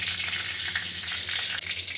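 White cumin seeds and bay leaves sizzle in hot mustard oil in a kadai, a steady, bright crackling hiss that carries on unbroken throughout.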